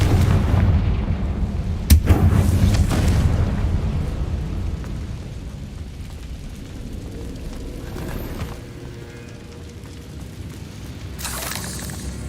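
Confringo blasting spell in Hogwarts Legacy, a sharp close crack followed by a heavy rumbling explosion that rolls and decays over several seconds, with debris crackle and a later fainter burst.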